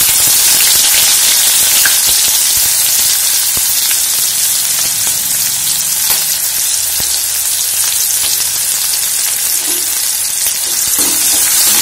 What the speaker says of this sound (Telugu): ఉల్లిపాయలు యాడ్ చేసుకుందాం